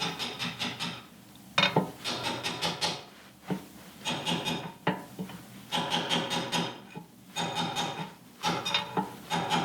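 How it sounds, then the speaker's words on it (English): Repeated metallic hammer blows on a piece of steel, driving a seal into place on a jeep tire carrier, in uneven bursts, sharp clanks ringing close by with short pauses between groups of strikes. "I'm going to take my hammer and also a piece of steel or something and whack it down"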